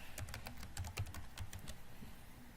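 Close, rapid key taps on a computer keyboard as a host name is typed in, with a quick irregular rhythm that trails off, at a soft level and with no talking.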